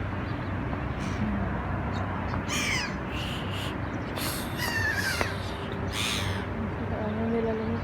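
Seagulls standing on the ground call repeatedly in harsh, squawking cries at moderate distance over steady outdoor background noise, with several overlapping calls spaced irregularly through the scene.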